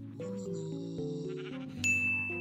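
A sheep in Minecraft bleats over a steady game music backdrop, a wavering tonal cry near the start followed by a bright chime-like ding toward the end, with no talking.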